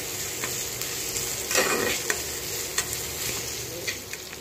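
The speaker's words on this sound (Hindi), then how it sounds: "कलर चेंज होने तक प्याज को थोड़ा भूनना" Chopped onions sizzle gently in a pan as they are stirred for a raw plantain stew, a steady soft frying hiss with occasional scraping clicks of the spoon, close and alone without talk.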